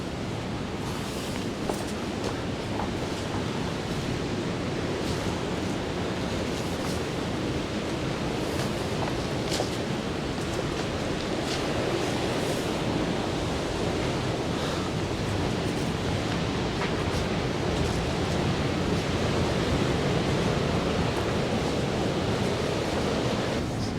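Surf rolls steadily onto the white-sand beach at Kynance Cove on the Cornwall coast, a dense, continuous wash of breaking waves mixed with some wind across the microphone and no voices.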